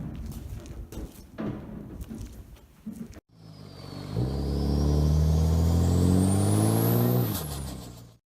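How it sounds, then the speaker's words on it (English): A first-generation pickup truck on stock wheels does a one-wheel-peel burnout: after a muffled rumble, the engine roars up loud and close with a rising tire squeal that climbs and then cuts off. "we did a big old nasty burnout, one wheel peel"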